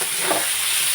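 Green peas sizzling in a hot pan while cooking methi matar bhaji, a steady, loud frying hiss with a soft stirring scrape.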